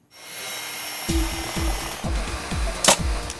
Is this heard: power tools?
yes